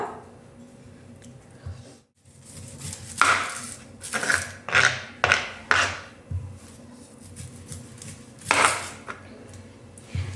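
A knife chops two tomatoes and a large onion on a board in a home kitchen, a run of sharp, uneven cuts close up, some in quick clusters, with no talk.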